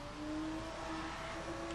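Zagato sports car driving through New York in The Crew racing game, a steady engine drone with faint tonal whine holding fairly constant, no talk over it.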